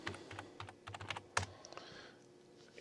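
Password being typed on a computer keyboard, a quick irregular patter of soft key clicks with one sharper tap, then fading to quiet; no voices.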